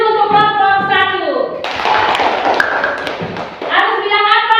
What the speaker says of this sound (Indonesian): Tepuk tangan dulu untuk kelompok 1.